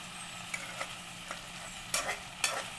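Ingredients sautéing in a pan are stirred with a utensil, giving a soft continuous sizzle broken by several scraping strokes at irregular intervals.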